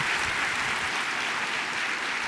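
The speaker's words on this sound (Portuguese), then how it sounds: "palmas para Jesus" Church congregation at a televised faith service claps together in a thick, steady wave of applause lasting a couple of seconds.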